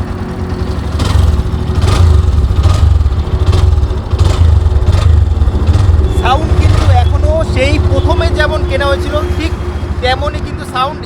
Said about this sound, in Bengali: ইঞ্জিন পারফরমেন্স আমি একটু সাউন্ডটা শোনাই পনেরো হাজার কিলোমিটার